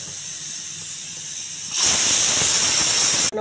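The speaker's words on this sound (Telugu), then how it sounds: "క్యారెట్ని ముందుగా కుక్కర్లో వేసుకుంటున్నానండి. ఒక విజిల్ పెడతాను." A pressure cooker on a stove, cooking carrots with a little water, gives a low quiet hiss and then bursts into a loud, sustained rush of escaping steam that cuts off abruptly at the end.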